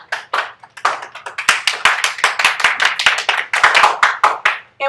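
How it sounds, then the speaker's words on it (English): Classroom applause from a group of students, a burst of uneven, overlapping hand claps that keeps going for about five seconds at close range with no talking. "Let's give Makai a round of applause."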